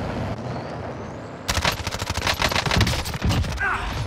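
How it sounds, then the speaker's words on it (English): Gunfire in a Call of Duty Warzone match: after a quiet stretch, a dense burst of rapid shots starts abruptly and keeps going in irregular volleys, fairly loud and close. "Heard some gunshots over here."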